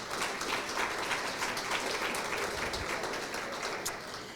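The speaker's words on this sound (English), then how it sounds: "Another round of applause for the Minister." At an anniversary dinner gathering, the crowd gives a round of applause for the Deputy Minister, a steady, fairly soft wash of many hands clapping from a distance.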